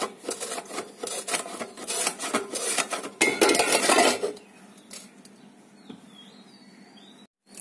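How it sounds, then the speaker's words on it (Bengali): A flat blade slices a potato into thin chips, producing a rapid run of close, loud scraping cuts that then give way to quieter, sparse clicks and knocks. "এই ব্লেডটা দিয়ে আমি সমান ব্লেডটা দিয়ে চিপস করব, এটা দিয়ে কাটব এভাবে আলুটাকে নিয়ে"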